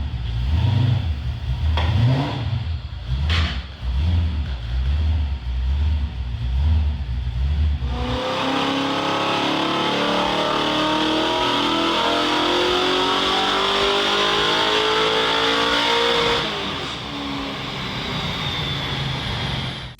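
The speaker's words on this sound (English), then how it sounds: "with obviously the motor and the cam setup and the exhausts and stuff, it sounds bloody unreal" An LS3 V8 engine with a cam and aftermarket exhaust burbles in a lumpy, rhythmic idle, then roars loudly as it revs up and sustains a high, throaty drone.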